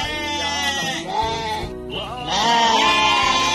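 A newborn lamb in a straw-bedded pen bleats in long, wavering, close-up cries, with one call trailing into another.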